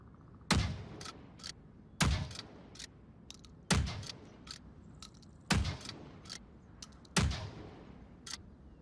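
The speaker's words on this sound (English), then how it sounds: "Manual bolt action, rifle reloading." Bolt-action rifle in Onward VR fired and manually reloaded: five loud sharp shots roughly every one and a half seconds, each followed by quick metallic bolt clicks racking back and forward.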